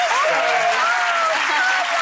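Studio audience on a daytime TV talk show breaks into steady, dense applause, loud and continuous throughout with a few faint cheers and whistles over the clapping.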